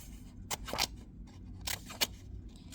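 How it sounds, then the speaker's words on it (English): Scissors cut short slits every inch or so into the material for a curved brain hat. A handful of sharp, close snips come in quick pairs, separated by short quiet gaps. "take this piece and cut a little line every inch or so"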